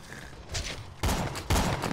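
Borderlands 2 gunfire crackles in quick bursts, with rapid close shots growing louder in two heavier volleys near the end.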